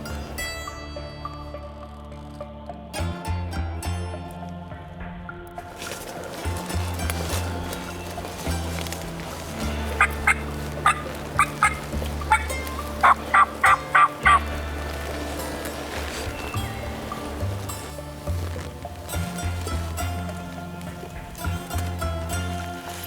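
Wild turkeys gobbling outdoors during Ohio spring turkey season, bursts of repeated gobbles and clucks from several birds at moderate distance, growing denser midway, with no talk over them.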